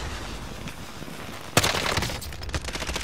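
Gunfire in the video game Warzone: after a quiet stretch, a sudden loud shot bursts out, followed by a rapid string of sharp cracks and crackle.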